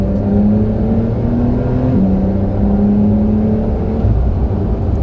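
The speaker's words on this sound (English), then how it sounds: "I'm gonna downshift a little, downshift to 3rd gear, and then we're gonna get on it" A car with an 8-speed transmission, dropped into third gear, revs hard as it accelerates, a loud steady engine drone whose pitch climbs, then dips at each shift, continuous and close with no talk.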